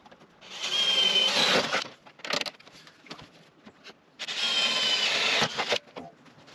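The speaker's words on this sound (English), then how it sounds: "Drill it." A drill bores holes through a Jeep XJ hood for louvers, two loud whining bursts of about a second and a half each, separated by a pause with small clicks and handling knocks.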